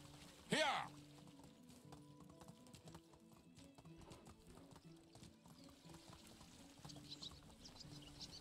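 Horse hooves clip-clop steadily while riding in Medieval Dynasty, the rhythm running under a rider's urging voice and a brief loud whinny near the start, with light bird chirps late on.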